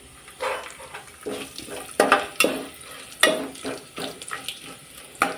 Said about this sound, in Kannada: ಚಕ್ಕೆ ಲವಂಗ ಚಕ್ರ ಮೊಗ್ಗ ಸಾಸಿವೆ ಜೀರಿಗೆ ಈಗ ತೊಗೊಂಡಿದ್ದೀನಿ ಈಗ ಹಾಕಿಬಿಡ್ತೀನಿ